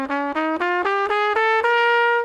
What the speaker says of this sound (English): And the minor bebop scale is basically the same thing,